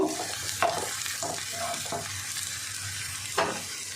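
Potatoes and onions fry in a pan with a constant close sizzle, broken by several distinct scraping strokes of a spatula stirring and turning them; no voices.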